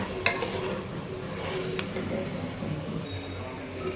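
Mutton fries in a pan for a curry, a steady close sizzle that holds through the whole stretch with a few faint clinks of a utensil, and no talking.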